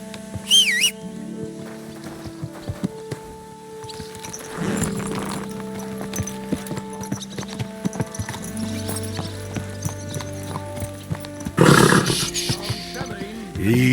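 Horse hooves clop and gallop in the video game Kingdom Come: Deliverance II, a rhythmic beat under a droning musical score and occasional game voices.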